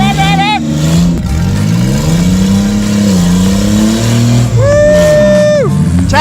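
A blue Honda Civic with a flat tire revving hard and straining forward, a loud close engine drone rising and falling, with excited shouting over it.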